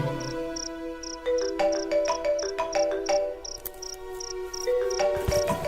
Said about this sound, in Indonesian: handphoneku berdering.